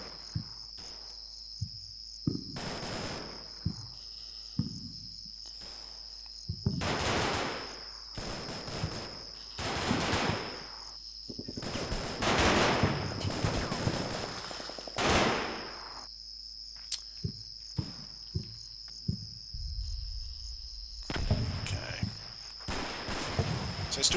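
Gunfire in the World War II tactics game Combat Mission Battle for Normandy: repeated bursts of rifle and machine-gun fire, some sharp single shots and some longer rattling volleys, over a steady insect-like chirping background.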